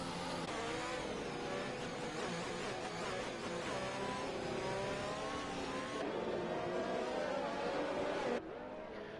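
Formula 1 cars in the racing game F1 2021 on the Baku circuit, engines screaming and revving together in a dense continuous roar as racing resumes, with a sharp drop in level near the end.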